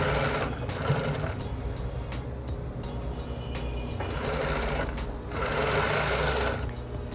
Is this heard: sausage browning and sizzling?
no